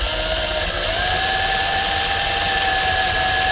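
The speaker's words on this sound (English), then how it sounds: "And we're just going to drill it out slowly." Power drill slowly boring out a part of an AR60 axle, a steady high whine that rises slightly in pitch and then holds, loud and continuous with no talking.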